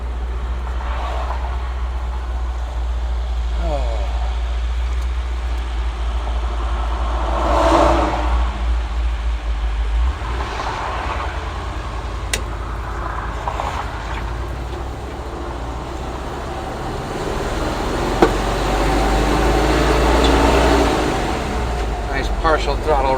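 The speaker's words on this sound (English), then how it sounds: "Partial throttle run there." A 1964 Ford F100 pickup with a 302 small-block V8 and a Pertronix distributor, driven on the road at partial throttle: a steady low engine drone heard from inside the cab, with a few swells in revs over road noise.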